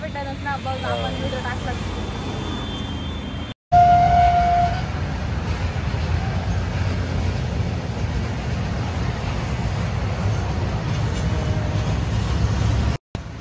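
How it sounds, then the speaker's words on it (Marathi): A train rumbles past with a steady low roar, loud and continuous, with a brief horn-like tone early on; voices can be heard faintly near the start. "मागून आताच एक ट्रेन गेली, तुम्हाला दाखवतो"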